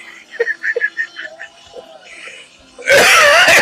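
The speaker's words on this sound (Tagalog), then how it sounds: "Inuubo ko." A person coughs in a harsh, loud burst near the end, after quieter vocal sounds and talking.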